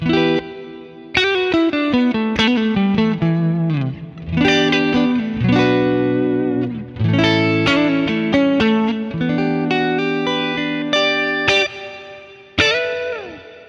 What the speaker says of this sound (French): je vais rajouter une reverb type hall, l'idée étant de donner l'impression que je me trouve dans une pièce très très grande